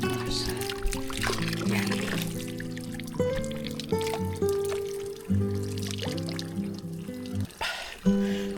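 Water running steadily from a hose piped in from the forest for drinking on a farm, a continuous close trickle and pour under a brief voice and background sounds.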